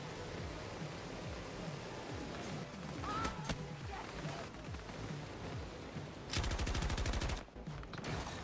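Rapid automatic gunfire from a sentry turret in a video game, a dense burst of repeated shots near the end over a continuous noisy game soundscape.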